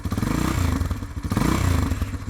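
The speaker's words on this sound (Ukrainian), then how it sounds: "дуже сильно дрібіжить при цьому е, табличка номера" A Shineray Tricker 250 motorcycle engine runs close and loud, with a buzzy metallic rattle from the license plate riding over the exhaust pulses.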